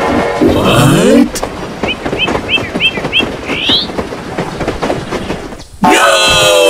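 A cartoon railroad train runs with a steady rumbling wash, broken by a quick series of short, rising whistle-like chirps in the middle and bright harmonic tones at the start and end.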